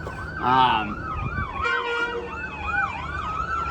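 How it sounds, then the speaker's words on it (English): An ambulance siren wails in repeated rising and falling sweeps, loud and fairly close, with a brief honk-like blast near the start and traffic rumbling beneath. "Ambulance."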